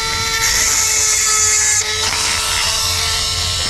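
A handheld sharpening tool draws across a blade in a workshop, giving a loud, steady high grinding scrape that shifts in tone partway through and carries on without talk.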